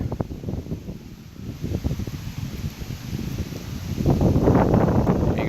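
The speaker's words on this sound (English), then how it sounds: "it's pretty windy out" Steady gusty wind buffets the microphone outdoors in an Alberta garden with rustling, growing stronger and louder toward the end.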